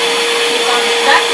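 A Minivac vacuum cleaner motor runs loud and steady at close range, holding a constant high whine without a break.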